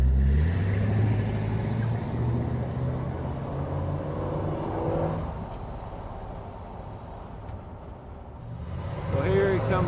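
A 1951 Ford pickup truck drives past with a steady engine rumble that swells and fades, then rises again near the end, with voices talking over it.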